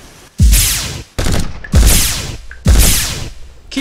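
Loud bursts of gunfire in a sci-fi audio drama about marines laying suppressing fire on an enemy target near a bridge: three heavy sustained volleys separated by brief gaps, close and forceful, with no talk over them.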